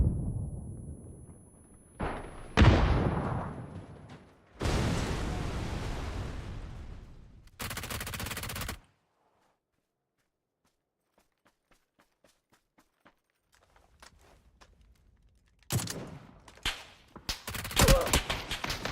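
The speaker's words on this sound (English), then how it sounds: "Of course I start getting shot by a second guy at the same time, too." Gunfire and explosions in the battle royale game PUBG, loud bursts of shots and booming blasts alternating with a quiet stretch of faint footsteps, then more rapid shooting at the end.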